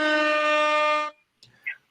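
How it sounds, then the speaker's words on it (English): A loud, sustained air horn sound effect blasts for about a second, then cuts off, followed by a few brief, faint scraps of sound. "Let me get the air horns for you right here."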